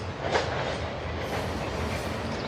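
A train speeding up rumbles steadily nearby at a harbor at sunrise, a continuous broad roar with faint rhythmic clatter from the rails, no voices.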